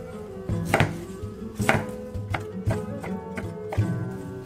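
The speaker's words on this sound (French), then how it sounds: "Et là, je vais couper des lardons." A kitchen knife chops bacon into lardons on a board, a steady series of crisp, close knocks roughly every second, with no talk.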